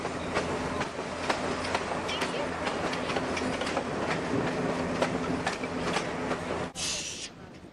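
Continuous rumble and rhythmic clatter of a train rolling along the tracks through a redwood forest, with a brief hiss near the end.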